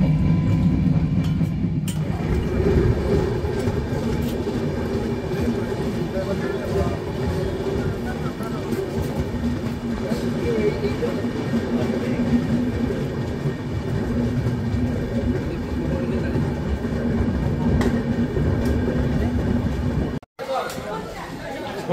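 Inside an Indian passenger train carriage running between stops, a loud continuous rumble and rattle of wheels on track goes on for about twenty seconds with a faint murmur of passengers. Near the end a brief drop leads into a change in the noise.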